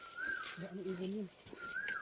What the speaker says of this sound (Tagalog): Ano ibon yun?